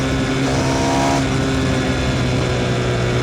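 A Yamaha MT-07 or KTM 390 Duke engine on a winding mountain road near the Col de Turini, a loud, close, steady droning hum with a slight pitch shift as the throttle opens.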